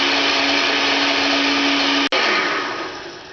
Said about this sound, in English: I've had that blending for just about 2 minutes